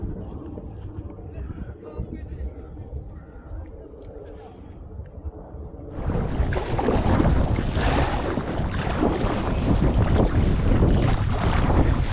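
Winter wind buffets a light Advanced Elements Packlite inflatable kayak, starting as a moderate rush and then turning into a loud, roaring gust that dominates the rest of the clip.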